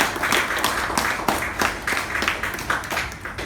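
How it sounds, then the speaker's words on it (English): A club meeting audience applauds its outgoing officers, a dense, sustained round of clapping with sharp individual claps standing out, close and steady for the whole stretch. "Please give the outgoing officers a big round of applause for the wonderful service they have rendered"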